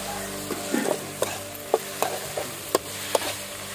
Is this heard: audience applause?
no